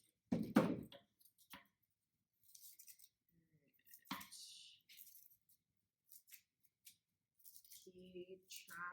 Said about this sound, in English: you're going to take your scissors, and scissors and cardboard work best if you can open them as wide